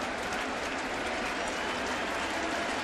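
Baseball stadium crowd applauding during the sixth inning of a Yankees versus Indians game, a dense, steady wash of clapping and cheering from a large crowd, continuous without pause.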